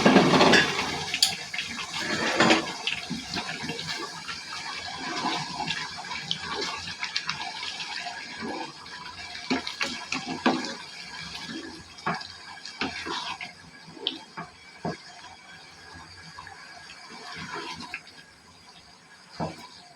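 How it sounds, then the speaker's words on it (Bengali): Hot water splashes and gurgles into rice being fried in a pot for beef pulao, an uneven pour with bursts and trickles lasting the whole stretch. "এখন এখানে আমি পরিমাণ মতো গরম পানি দিচ্ছি।"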